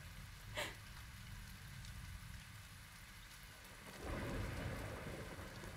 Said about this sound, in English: Oh, I like the sounds of the rain.